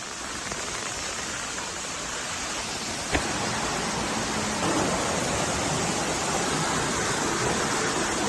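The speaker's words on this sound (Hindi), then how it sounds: "तेज बहाव आप देख रहे हैं जोधपुर की गलियों में।" Strong floodwater rushes through the streets of Jodhpur during heavy rain as a dense, steady roar of flowing water. One sharp knock stands out near the middle, and no voices are heard.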